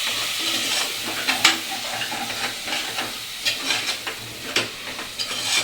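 Yogurt is mixed into a sizzling mutton keema biryani masala, giving soft wet scraping strokes and occasional spoon knocks over a continuous frying hiss, close up and without talk.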